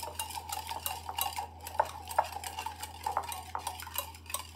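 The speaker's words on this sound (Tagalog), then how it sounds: "haluin natin yung ating itlog" A utensil stirring eggs in a bowl for mango gulaman, quick repeated scraping and clinking strokes with a few sharper taps against the side, close and fairly quiet, no talk.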